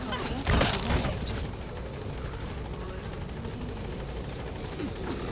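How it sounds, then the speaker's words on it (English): Support helicopter touching down at the landing zone in Metal Gear Solid V: The Phantom Pain, a steady rotor drone with a brief louder thump near the start. "Support helicopter has arrived."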